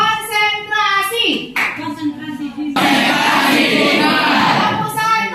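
A class of children claps along to a counted rhythm led by a teacher, a burst of broadband hand claps building into sustained group clapping, with a speaking voice over it at the start and end.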